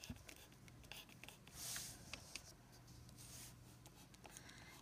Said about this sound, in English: I'm drawing anything that I want to onto the aluminum foil.